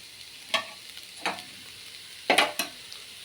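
Lentils frying in a pan for a cluster bean paruppu usili, stirred now and then, with a low sizzle and a few sharp scraping strokes of the spoon, close and without talk.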